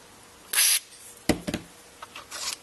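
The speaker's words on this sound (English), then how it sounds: "spray a little bit into the punch out" A short hissing burst of cleaner sprayed into a NuTone IS305 intercom volume control, followed by small clicks and scrapes, then a fainter second hiss near the end.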